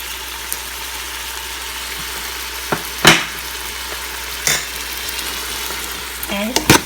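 A sizzling pan sauce of fish sauce and sugar keeps up a steady frying hiss while a utensil scrapes and stirs in a few sharp, separate strokes, and a voice talks faintly near the end.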